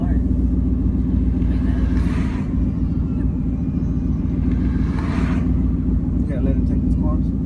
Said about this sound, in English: check these next couple clips out of me kind of going through about my daily business in the Mustang